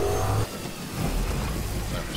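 A vehicle engine in the game Death Stranding revs and accelerates with a steady mid-pitched drone over rough ground, heard up close.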